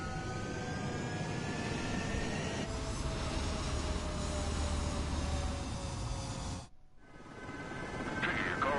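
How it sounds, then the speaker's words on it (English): A fighter jet takes off from a runway in the video game Ace Combat 7, its loud, continuous engine roar filling the scene with a rising whine, then cutting out briefly before building again. "Mage 2, clear for takeoff."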